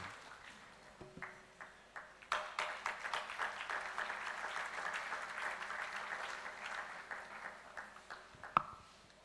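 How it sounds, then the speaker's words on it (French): A church congregation at a Sunday service in Brazzaville applauding, scattered claps swelling into sustained lively clapping that then tapers off, with a brief ping near the end. "Give God a big hand offering."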